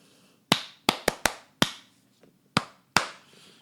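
Sharp claps sounding alone in a rhythmic attention-grabbing pattern, a quick burst followed by spaced single claps, close and crisp in a quiet room.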